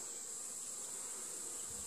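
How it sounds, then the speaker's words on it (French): A steady, faint buzzing hum of many honeybees at a hive, continuous and even throughout, with no voices. "Il y a beaucoup d'abeilles, ça travaille beaucoup"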